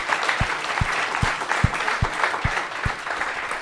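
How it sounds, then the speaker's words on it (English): Applause for Kevin Campbell on a live Arsenal fan talk show: a steady wash of clapping from the crowd, with a few strong, evenly spaced near claps standing out above the rest. "I'd just like a quick round of applause for Mr. Kevin Campbell."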